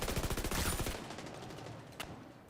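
Lightweight M4 rifle shots from Division 2, firing as a rapid automatic burst for about a second, then a lone sharper shot after a pause and a fading tail.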